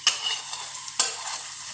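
Bread chops fry in hot oil with a steady sizzle while a ladle stirs and turns them, giving two distinct scraping strokes close by.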